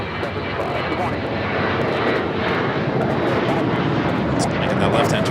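Airliner jet engines taxiing at Los Angeles LAX airport, a continuous loud broadband roar with whine, held steady throughout while a voice talks over it.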